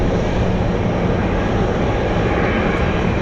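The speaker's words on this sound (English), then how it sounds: "We have the UPS 767 taxiing to the runway." UPS Boeing 767 cargo jet taxiing to the runway at Anchorage in gusty wind, a loud continuous broadband engine roar holding steady and close throughout.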